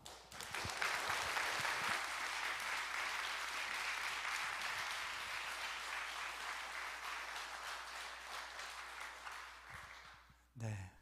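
A church congregation at a Friday late-night prayer meeting gives a missionary a long, warm round of applause, dense and sustained before it fades out, with a few voices mixed in underneath.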